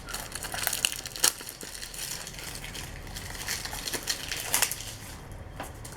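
Packaging being crinkled and torn while opening an Amazon package, close irregular crackles, rustles and sharp snaps with quiet handling noise between bursts and no talking.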